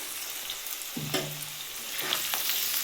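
Teasel gourd stirring in a covered pan while frying for a mash, with a steady soft sizzle and a few scraping strokes of the spatula, near and moderately loud, no talking.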